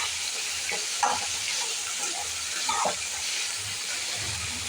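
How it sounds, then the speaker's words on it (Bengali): Small fish fry in a hot wok, with a continuous sizzling hiss and spatter at moderate volume and a couple of brief louder stirring bursts. No one speaks. "এই যে ছোট্ট ছোট্ট মাছগুলো আমি ভাজতে দিয়েছি"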